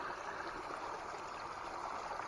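A small creek near a natural spring trickles and burbles in a steady, continuous wash, close and even, with no voices.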